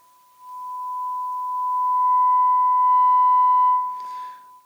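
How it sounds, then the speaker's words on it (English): A pure 1 kHz sine test tone played at maximum volume through the pickup input of a Telefunken Operette 6 radio, a steady loud whistle that fades in, holds for about three seconds, then cuts off with a short crackle. "a sine wave of 1 kilohertz"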